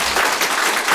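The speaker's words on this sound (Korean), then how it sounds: "박수 다시 한번" Applause from a church congregation during a Sunday service, broad and steady clapping filling the room for a short burst with no voices over it.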